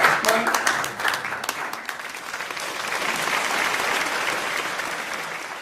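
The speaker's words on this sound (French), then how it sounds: "Vous pouvez les applaudir." Dense, sustained applause from a conference audience at a French-language talk on illusion and attention, steady and enthusiastic for the whole stretch with no voices over it.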